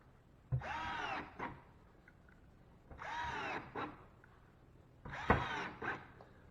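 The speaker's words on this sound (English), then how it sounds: "Start putting screws in. Put screws every, I'd say, 3 to 4 inches." A power drill drives screws into drywall during a patch repair, three separate whirring bursts about a second long each with short pauses between, close and fairly loud.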